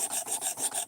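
Knife stroked across a sharpening stone used dry without oil, quick rhythmic rasping passes, about six scrapes in under a second, close and clear with no voices.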